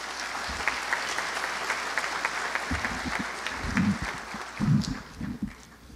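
Audience applause at a university graduation ceremony for tourism administration graduates, a steady, fairly distant wash of clapping from a large hall crowd that swells in the final seconds with a few louder nearby claps.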